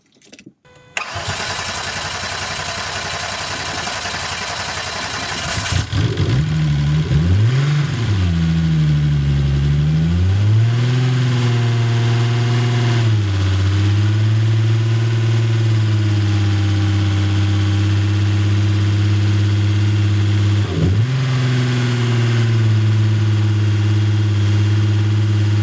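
A turbocharged VW VR6 engine, newly built and firing for the first time, cranks briefly, catches and starts, then revs up and down several times before settling into a loud, steady idle close by, with one more quick blip later.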